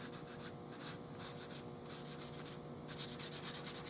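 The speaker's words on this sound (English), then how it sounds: "You want to stay off your checking, because you don't want to sand your checking." Sandpaper rubbing over a wooden 6.5 Creedmoor rifle stock next to its checkering, a steady, close scratchy hiss in repeated strokes with no talk.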